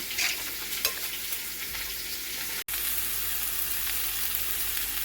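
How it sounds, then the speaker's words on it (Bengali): Raw jackfruit pieces fry in plain hot oil with no salt or turmeric, giving a steady, close, dense sizzle that runs throughout, broken only by a brief dropout midway. "এঁচোড়টা ভেজে নিলাম"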